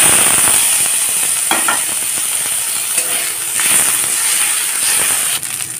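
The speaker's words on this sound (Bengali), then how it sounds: "কড়াইতে সামান্য তেল দিয়ে দিয়েছি। এখন নিম পাতাগুলোকে দিয়ে দেব।" Neem leaves fry in a little oil in a wok, giving a steady, close sizzling hiss with a few scattered clicks and scrapes from stirring throughout.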